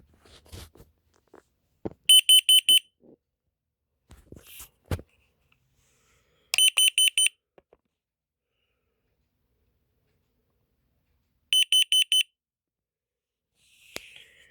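Three separate bursts of rapid, shrill beeping from a new carbon monoxide alarm being tested, each a quick run of piercing tones, set apart by quiet handling clicks and breaths.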